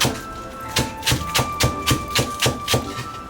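A kitchen knife chops a little ginger on a cutting board, mincing it finely in a steady run of about nine sharp, evenly spaced knocks, close and clear, with no talk.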